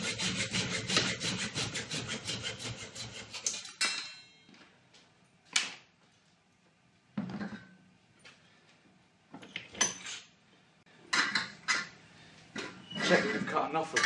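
Hand sawing through the flange of steel trunking: a few seconds of fast, loud rasping strokes, then intermittent clanks, scrapes and handling knocks of the metal with quiet gaps between.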